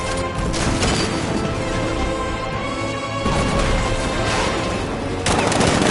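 A riot suppressor gun on a tank in Batman: Arkham Knight fires in long continuous bursts, loud and dense, with a brief gap near the middle and a heavier burst at the end.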